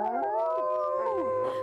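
A dog howls in long, sustained wavering tones that rise and fall, several overlapping howls close and fairly loud with no speech.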